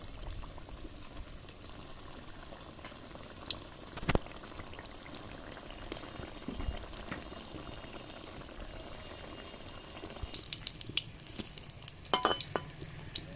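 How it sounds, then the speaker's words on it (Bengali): Kachori frying in hot oil in a wok gives a soft, continuous bubbling with occasional sharper pops and crackles, fairly quiet and without talk. "কড়াইতে তেল দিয়ে দিয়েছি তেলটা ভালো মতন গরম হয়ে গেছে একটা একটা করে কচুরিগুলো দিয়ে দেবো"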